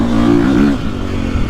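A KTM 450 SX-F Factory Edition motocross bike's four-stroke engine revs up close and loud, pitch rising and wavering briefly before dropping back to a rough, burbling idle.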